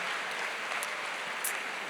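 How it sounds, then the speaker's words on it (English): An audience applauds at a talk, a dense, even clatter of many hands clapping continuously, with a few sharper claps standing out. "she deserves the applause"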